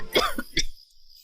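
A woman coughs a few times in quick succession, short sharp bursts close up that stop abruptly and leave near silence.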